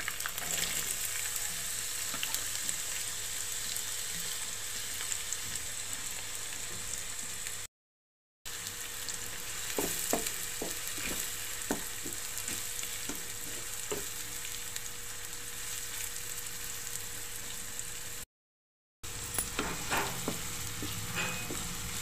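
Chicken and onion pieces frying in a pan of oil, giving a steady, dense sizzle that carries on without a break, plus occasional sharper crackles and pops as the pieces cook. Nobody speaks.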